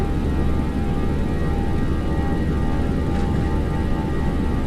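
Simulated Boeing 737-700 jet engines in X-Plane 11 spool to takeoff power for a Southwest departure from Chicago Midway, producing a steady, dense roar with a constant whine layered through it.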